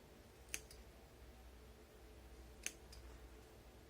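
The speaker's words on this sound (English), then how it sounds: "I'm going to take those off with my embroidery scissors" Embroidery scissors trim loose threads from the French seam of a sheer fabric, giving two soft, close snips about two seconds apart in an otherwise quiet room.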